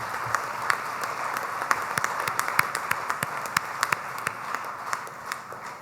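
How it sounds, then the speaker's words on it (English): Audience applause at an export excellence awards ceremony, greeting the chief guest: a steady wash of many hands clapping at moderate distance, with scattered sharper individual claps standing out, no voices. "can we have a round of applause for the chief guest"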